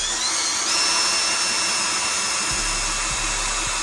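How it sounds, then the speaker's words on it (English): A power drill whirs steadily, boring a hole for a lift bracket on a Jeep JK Wrangler, a loud constant high whine that shifts pitch slightly partway through, with low knocks toward the end and no speech. "Now we'll go ahead and drill our hole."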